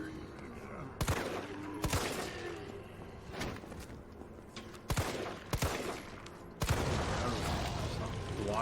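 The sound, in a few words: gunshots in Resident Evil 3 video game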